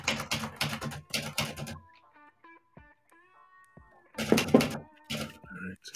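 Bursts of rapid typewriter keystrokes clatter close by as a poem is typed, with a quiet pause between the two flurries and some faint talking.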